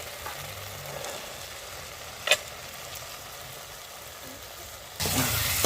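Peas frying in a spiced masala for mutter paneer, a soft low sizzle with a single sharp clink partway, then a sudden louder hiss near the end, close and without voices.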